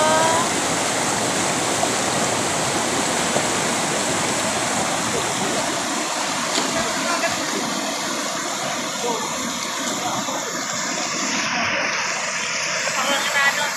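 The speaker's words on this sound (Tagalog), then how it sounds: "malakas yung agos" A strong river current rushes steadily past in Eastern Samar, a dense, loud, even wash of flowing water that lasts throughout with no break.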